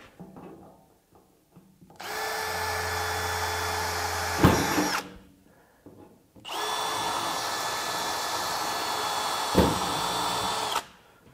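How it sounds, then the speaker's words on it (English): A power drill drills through a plastic Milwaukee PACKOUT mounting plate in two long, steady bursts with a brief pause between, each whine grinding on loudly before cutting off. "Okay, back to drilling."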